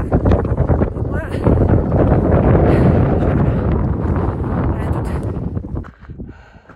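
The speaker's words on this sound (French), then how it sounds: "il y a beaucoup de vent" Strong wind buffets the microphone on a mountain trail during a trail running race near La Mongie, a loud roaring rush that fades toward the end, with a person talking over it.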